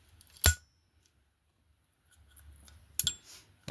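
Two crisp snips cut a wooden craft stick at a marked line, each a short sharp crack a few seconds apart with near silence between, close up and without speech.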